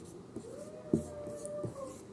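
Pen or pencil writing numbers by hand on paper, with a few soft scratchy strokes and light taps over a quiet room background, no voices.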